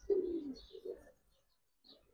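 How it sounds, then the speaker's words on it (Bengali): Milk khaki pigeon giving a soft, low coo followed by a second shorter coo, close and clear, then a brief quiet gap before faint further murmuring. "দুধ খাকি কবুতর ভাই নটটা"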